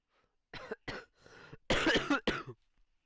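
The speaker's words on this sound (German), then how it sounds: "Mein Husten ist echt schlimm." A series of harsh, close coughs in quick bursts, a few separated by short pauses, with no talking.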